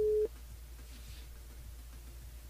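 A telephone line tone sounds during a call to a radio phone-in listener: one brief steady beep, then a low, quiet line hum continues alone.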